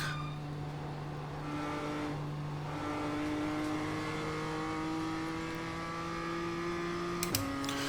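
A BMW M2 race car laps in the video game iRacing, its engine a steady, fairly quiet drone that rises gradually in pitch, then dips briefly with a short blip near the end.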